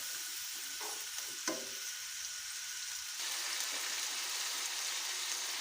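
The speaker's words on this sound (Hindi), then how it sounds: "लहसुन का पेस्ट अच्छी तरह फ्राई हो गया है" Garlic and ginger paste frying in a pan for Sindhi biryani, a steady broadband sizzle throughout with a brief stir or clink near the middle and the hiss growing slightly louder toward the end.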